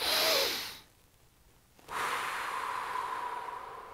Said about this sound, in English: you can make it more of like a forceful inhale